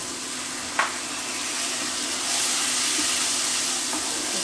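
Garlic paste in a hot pan hisses and sizzles steadily after a splash of water goes in, with a brief tap at the start and the hiss swelling louder partway through, no voices.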